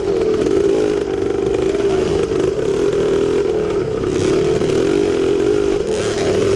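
A 1974 Yamaha MX360 two-stroke motorcycle races in a vintage cross-country event, its engine holding a loud, raspy, steady drone close to the microphone with slight pitch shifts as the throttle varies.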